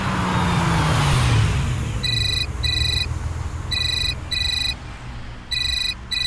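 A mobile phone ringtone plays in repeated short bursts of bright electronic tones, clear and near, over a steady low rumble of passing road traffic, with no talking.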